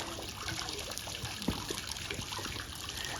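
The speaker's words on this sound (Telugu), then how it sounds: "ఇక్కడ ఒక చిన్న వాటర్ ఫౌంటైన్ ఉంది" A small water fountain trickles at a forest resort in Japan, a faint, continuous gentle splashing with one soft drip-like plop partway through.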